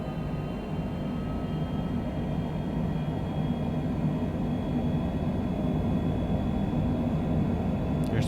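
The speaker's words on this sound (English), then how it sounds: "Takeoff power is set." Steady, loud roar of a Longitude business jet's engines at takeoff power during the takeoff roll in Microsoft Flight Simulator 2020, a continuous rumbling drone holding even throughout with no talking.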